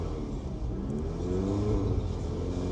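An MQB-chassis car's engine revs as the throttle is pressed, a steady low rumble rising slightly in pitch, heard up close from inside the car on a drive around the block, with no talking.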